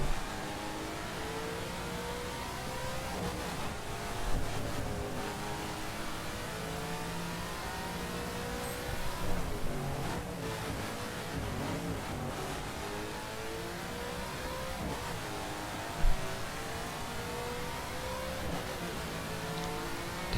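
Car engine revving steadily while driving in the racing video game The Crew, a continuous mid-pitched drone with occasional surges in throttle, loud and up close with no talking.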